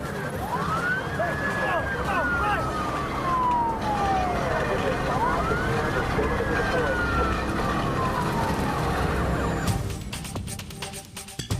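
A police car siren wails in long rising-and-falling sweeps during a night chase in Phoenix, Arizona, loud and close over steady road and engine noise, before cutting off near the end.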